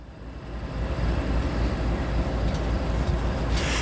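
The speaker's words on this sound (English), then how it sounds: "Here comes an auto-rack train" A Norfolk Southern auto-rack freight train rolls up to a road crossing at Visger Road in Ecorse, Michigan, a steady loud low rumble of wheels and locomotive that holds constant throughout, with no voices.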